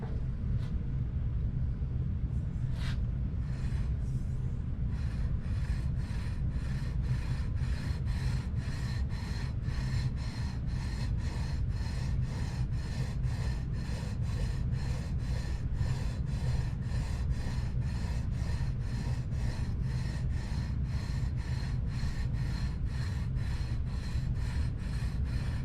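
Frets on a Firefly FFMN guitar being sanded down in steady back-and-forth strokes, a close, even rasping rhythm that repeats about twice a second throughout, with no talking.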